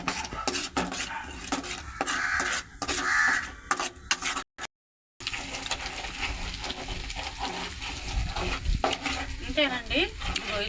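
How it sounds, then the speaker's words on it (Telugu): Ginger-garlic paste frying in hot oil in a pan, with steady sizzling and repeated stirring scrapes, crows cawing in the background and a brief dead-silent gap midway. "మనకి అల్లం తెల్లగడ్డ పేస్ట్ కూడా వేగిపోయింది"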